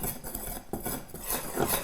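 A table knife clinks and scrapes against a bowl while stirring kefir into flatbread dough, with a few light, irregular metallic taps close by and quiet.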